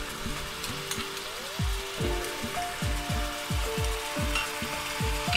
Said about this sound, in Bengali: এবার আমি টমেটো পিউরিটা দিয়ে দিলাম, সাথে সাথে আমি আদা বাটাটা দিয়ে দিচ্ছি।